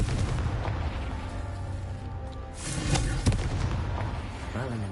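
A Confringo fire spell cast in Hogwarts Legacy, a booming explosive burst with crackling debris amid game effects, over someone speaking.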